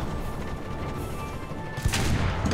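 Coaxial machine gun on a Type 98 Ke-Ni light tank in the shooter Enlisted, South Pacific front: steady gunfire and booming bursts, rising into a louder, sharper burst near the end.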